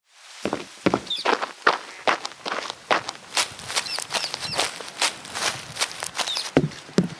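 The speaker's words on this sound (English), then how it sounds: "In Wwise, the player footsteps are grouped into 4 random containers" Footsteps of a player character in a game demo built with Wwise and Unreal Engine, a steady run of close, crisp steps that continues throughout with no voices.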